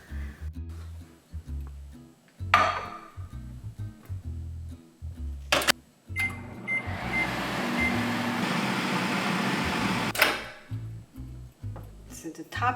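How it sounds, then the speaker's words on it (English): A microwave oven hums steadily for several seconds while cooking Korean steamed eggs, framed by clicks and beeps from the door and controls, with quiet background noise before and after. "we're gonna cook this in the microwave"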